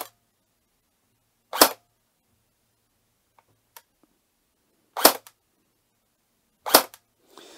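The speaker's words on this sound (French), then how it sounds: "je vais vous faire écouter le bruit de la gear" An ICS GSG 522 airsoft gun fires semi-automatic shots: three sharp, loud cracks spaced a couple of seconds apart, each followed by a faint mechanical click, with near silence in between.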